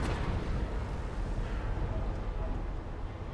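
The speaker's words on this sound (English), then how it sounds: "Oh, they must have done something over here because I heard an explosion." A dull, rumbling explosion from the space-building game Space Engineers, a sustained low boom that rolls on and fades slowly over a few seconds, with no voice over it.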